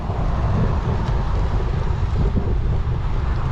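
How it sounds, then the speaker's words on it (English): Strong headwind buffeting a cyclist on a 75-mile loop of the Pinellas Trail, a loud, continuous low roar of wind noise pressing against the microphone without letup. "Headwind. It's not something you want to hit at the end of the ride."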